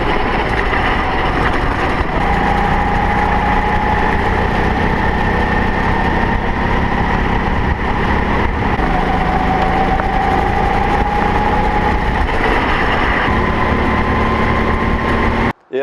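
A go-kart engine runs steadily on a racing circuit, a loud continuous droning hum that holds a fairly even pitch with slight rises and falls, close and unbroken for the whole stretch, with no talking.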